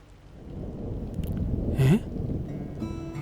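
Rain falls steadily through the whole stretch, a broad soft hiss with a brief louder gust or rumble in the middle, and no talk over it.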